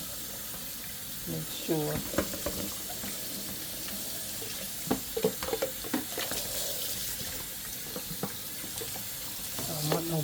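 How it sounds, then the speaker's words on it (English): A kitchen tap runs into the sink while frozen items are rinsed under it, with splashing, clinks and handling knocks close by and a brief spoken remark partway through. "let me rinse this off before I take it out of my sink"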